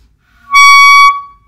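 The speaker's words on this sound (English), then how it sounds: "You will get a squeak if you take a lot of mouthpiece." A shrill wind-instrument squeak from taking too much mouthpiece, a single sustained high whistle lasting about half a second, loud and alone, with a bright stack of overtones.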